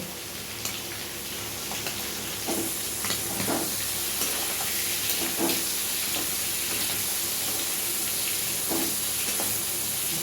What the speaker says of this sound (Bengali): এবারে সিটি মারছে।